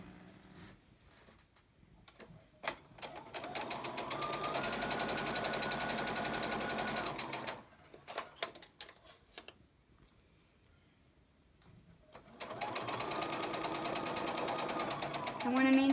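A sewing machine stitching a quarter-inch seam on a quilt block, running in a steady rapid whir for several seconds, pausing amid soft handling noises, then starting again close up, with a voice talking between runs.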